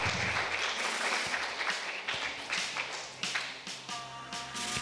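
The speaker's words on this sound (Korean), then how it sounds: "큰 박수로 모시겠습니다." An audience of young people at a lecture on rainwater claps to welcome a professor onto the stage, a dense round of applause that thins into scattered claps near the end.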